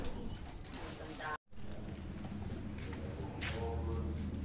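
Racing pigeons coo softly in a loft, repeated low throaty calls under steady background noise, with a brief dropout midway and faint voices nearby.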